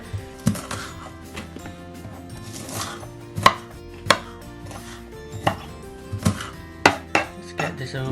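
Half an onion is chopped on a cutting board by a first-time cook using a knife, giving sharp irregular knocks against the board roughly every half second to a second, close and clear, with no talking.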